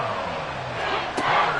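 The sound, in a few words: stadium crowd roaring in a football video game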